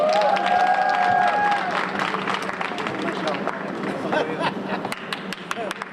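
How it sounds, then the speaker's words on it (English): A youth summit audience gives a standing ovation, sustained loud clapping with crowd chatter and a speaking voice over it, gradually thinning toward the end. "I think he deserves another round of applause."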